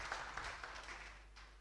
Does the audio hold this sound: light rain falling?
no